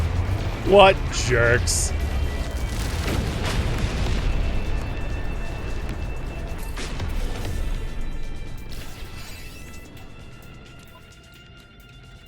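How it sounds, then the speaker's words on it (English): Pirates attacking in No Man's Sky produce a burst of booming shots and explosions, a sharp blast early, then rumbling impacts that trail off quieter, with a short spoken exclamation. "Stop shooting me, guys!"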